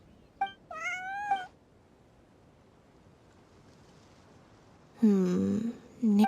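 A cat meows in the video game Genshin Impact: a short call followed by a drawn-out meow, then after a quiet stretch a louder, whiny meow and a brief final cry, close and clear with no talk.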